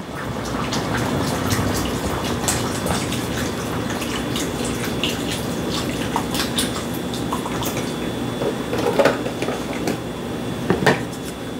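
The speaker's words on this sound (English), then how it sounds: "We're gonna put some more of this beef broth in." Beef broth is poured into a pot of lamb stew and makes a steady liquid rush with splashing, close by, with a few clinks and knocks of utensils near the end.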